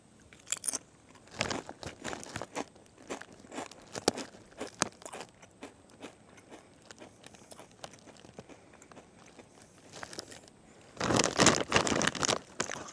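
A crunchy garlic steak-flavored Doritos corn chip is bitten and chewed up close, with sharp, irregular crunches spread across the stretch and a denser burst of crackling chewing near the end.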